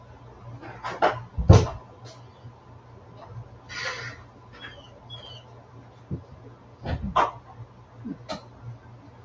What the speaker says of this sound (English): big ass dog around 350 this morning